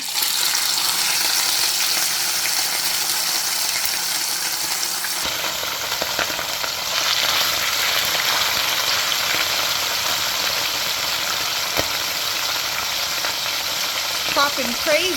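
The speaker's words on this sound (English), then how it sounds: "I'm going to start frying the fish now." Loud, continuous sizzling of saltfish frying in hot oil for escovitch, a dense crackling hiss with occasional pops, steady throughout.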